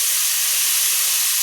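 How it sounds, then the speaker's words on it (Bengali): Shrimp frying in hot oil in a home kitchen, a steady, loud sizzling hiss that holds unbroken through the whole moment with no talk over it. "এখন আমি সব মাছগুলো একে একে ভাজা করে নেব"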